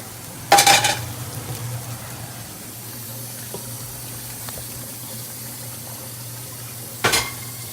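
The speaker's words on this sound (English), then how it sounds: "we're going to take these and just dump them in the Instant Pot" Browned chicken pieces tipped into an Instant Pot, giving two short bursts of clattering and sizzle a few seconds apart over a low steady hum.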